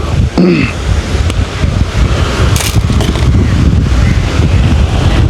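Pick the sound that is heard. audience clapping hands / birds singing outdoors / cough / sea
sea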